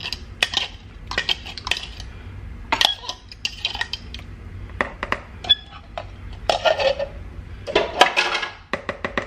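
A black bean burger mixture with ground green peppers, garlic and onions being stirred in a bowl, with a utensil clinking and scraping in repeated quick bursts close by and a faint breath or cough in between.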